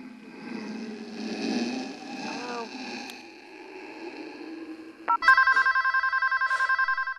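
A telephone rings in a scene from the animated movie Monster House, a rapid electronic trill starting near the end after murmuring voices and background noise.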